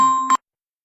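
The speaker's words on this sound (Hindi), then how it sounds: "मौलवी साहब आपका फोन बज रहा है" A mobile phone rings with a bright, steady electronic tone that holds for about a third of a second, then swells briefly and cuts off into silence.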